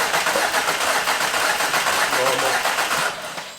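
Volkswagen Golf MK5 GTI engine cranking and catching as it starts, a steady loud broadband churn that carries on for about three seconds before easing off, with voices heard alongside.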